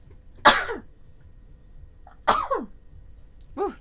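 Three sharp, explosive sneezes burst out one after another, the last one smaller, with quiet pauses between them.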